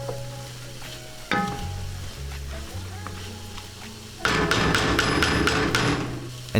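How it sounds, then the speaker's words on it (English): Lentils dropped into a soup pot and stirred, heard as a clatter of spoon against the pot followed by a louder stretch of scraping and rattling. "Drop them right into the pot and mix them around so that they're evenly distributed throughout."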